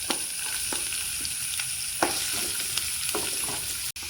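Garlic and ginger hit hot oil in a pan for a Kerala-style soya fry, making a loud, steady sizzle with occasional stirring taps.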